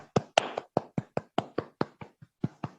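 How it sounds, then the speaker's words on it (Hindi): Scattered hand claps from a small audience at a Bhagavad Gita class at an ISKCON preaching centre, about a dozen separate sharp claps in an uneven rhythm, close and fairly quiet, with no talking. "सब एक बार उनके लिए तालियां बजाएंगे।"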